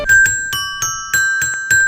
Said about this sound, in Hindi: एक्स ने एक्सलोफोन बजाया